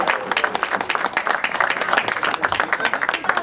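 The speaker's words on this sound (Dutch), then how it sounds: "Applaus." A crowd applauds at a youth indoor football tournament prize ceremony, loud, close clapping with a choppy rhythm that runs without a break, mixed with some crowd noise.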